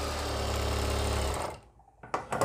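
Sewing machine stitching pant fabric runs in a fast, steady close-up whir for over a second, then stops, followed by a few soft handling clicks and thumps.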